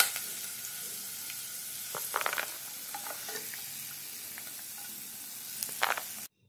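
Peanuts frying in oil in a kadai make a low, steady sizzle, broken by a few louder clattering stirs and scrapes of the spoon against the metal.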